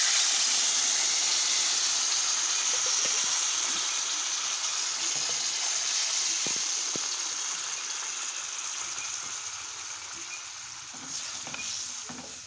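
Water is poured into hot spiced oil for a fish curry, raising a loud, steady sizzle and bubbling hiss in a pan that slowly settles and fades, with a few soft knocks and no talking.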